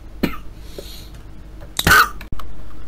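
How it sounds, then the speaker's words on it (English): A man coughing in a short fit: a few sharp coughs and throat clearing, then a loud harsh burst, close to the microphone, against faint background hiss. "Had a coughing fit for some reason"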